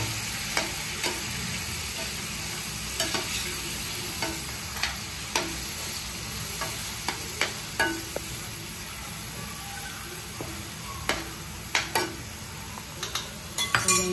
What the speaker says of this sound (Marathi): मस्त मिक्स करून घ्यायचं लाल होईपर्यंत.